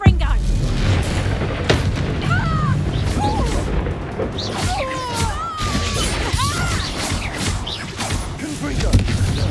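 Explosive Confringo spell blasts in Hogwarts Legacy, heavy booming crashes and impacts rolling through a chaotic fight, with voices speaking and shouting throughout.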